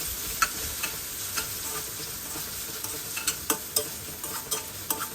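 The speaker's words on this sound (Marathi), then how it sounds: "त्यामध्ये दालचिनी एक वेलदोडा दोन लवंग आणि काजूच्या पाकळ्या हे आपल्याला हलकेसे परतून घ्यायचे आहे" Cinnamon, cardamom, cloves and cashew pieces sauté in a pan for a spiced rice dish, a steady close sizzle broken by repeated sharp scrapes and taps of a stirring spoon, with no talking.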